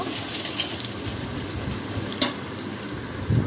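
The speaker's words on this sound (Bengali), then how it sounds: "আলুটাকে কিছুক্ষণ নাড়াচাড়া করে নেব।" Potatoes are stir-fried in a pan for Bengali chapor sukto. A loud, steady frying sizzle runs throughout, broken by a couple of brief stirring scrapes. No voices are heard.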